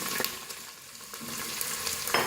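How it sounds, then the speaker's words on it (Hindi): Two medium onions frying in half a cup of hot oil, a soft continuous sizzle with occasional stirring scrapes, close and steady with no voices. "इसको फ्राई करेंगे हल्का सा।"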